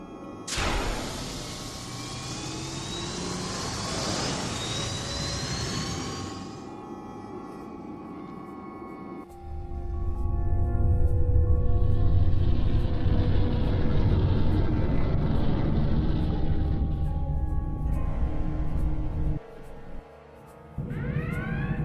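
Shuttle engine in the Star Trek Online game, a loud sustained roaring rumble with a whooshing rise that fades, then a deeper steady engine drone with brief cut-outs near the end.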